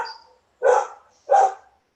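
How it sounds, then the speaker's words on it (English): A dog barks three times in a home setting during an online public-health board meeting, each bark loud, close and spaced about half a second apart, with no talk. "That's my dog commenting in."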